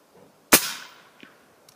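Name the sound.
Sam Yang Recluse airgun shooting at 100 yards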